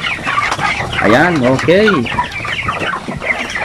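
Chickens cluck loudly and repeatedly on a poultry farm raised for a month, with rising, warbling calls close by and a brief spoken word over the flock.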